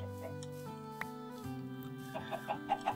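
Chickens in the video game Minecraft cluck in a short run of rhythmic, increasingly louder clucks toward the end, over a steady layer of game background music.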